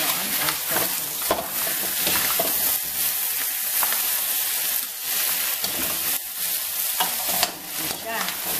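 King crab stir-fries with oyster sauce in a hot pan, giving a steady close sizzle broken by repeated scraping and stirring strokes throughout.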